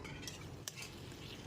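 Boiled potato pieces stirred and fried in a pan with an Assamese fish tenga curry base, giving a steady close sizzle under scraping stirs, with one sharp utensil knock partway through.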